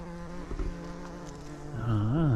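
A big bumblebee buzzes close by in a garden, a steady droning hum that wavers in pitch and grows louder and more insistent toward the end as it moves nearer, with no talking.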